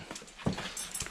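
A big dog heard during a coyote trapping outing in Iowa, with faint panting and whimpering vocal sounds, one brief louder burst midway, close and alone without talk.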